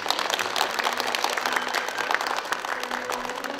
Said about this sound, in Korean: 박수로 마무리하겠습니다.